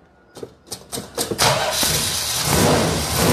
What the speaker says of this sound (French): Voilà donc ce truck, bah tiens, je le mets en route.